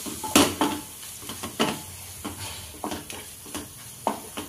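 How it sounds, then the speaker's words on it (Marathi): A spoon stirring chopped coriander into eggplant bharit in a pan, with irregular scraping strokes against the metal and a soft sizzle underneath, alone without talk. "तर आपण कोथिंबीर चांगलं मिक्स करून घेऊ।"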